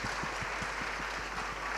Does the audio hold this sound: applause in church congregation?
yes